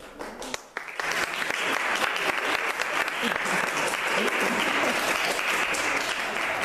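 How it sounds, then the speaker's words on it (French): Sustained audience applause fills the hall during a Christmas-season Catholic homily, starting after a brief quiet moment and continuing loud and steady to the end, with scattered voices mixed in. "La première fois qu'on applaudit."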